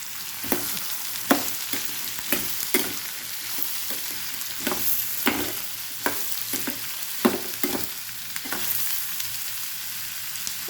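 Onions and green chillies sauté in a pan for badanekayi bharta, an eggplant dish, with a continuous hissing sizzle broken by regular scraping strokes of a spatula, close and alone.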